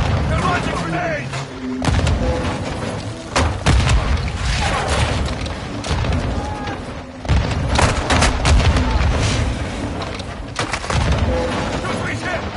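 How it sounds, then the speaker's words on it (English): Grenade launcher explosions in Call of Duty Modern Warfare 2, repeated loud booms and crackling blasts at irregular intervals amid gunfire, with soldiers shouting between them. "They're launching grenades!"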